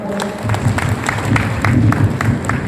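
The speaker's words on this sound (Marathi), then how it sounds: "पुन्हा एकदा गुरुवारांचं आपण टाळ्या वाजवून स्वागत करा." An audience claps to welcome a speaker at a public gathering, with close, rhythmic hand claps over a steady crowd murmur.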